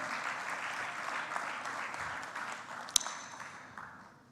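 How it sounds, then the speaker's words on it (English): A crowd applauding at a conference closing ceremony, dense clapping at a steady level that slowly fades out toward the end, with a brief sharp ping near the close. "a big round of applause"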